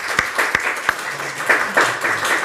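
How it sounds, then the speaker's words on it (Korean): Applause from a church congregation encouraging a student awarded a scholarship, a steady wash of clapping with a few sharp louder claps early on and a low voice murmuring beneath. "우리 박수로 격려하겠습니다"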